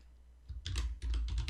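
Keys clacking on a computer keyboard as a file name is typed, a quick burst of close, crisp taps followed by a firmer run of strokes, with no talking.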